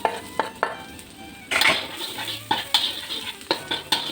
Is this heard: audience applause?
no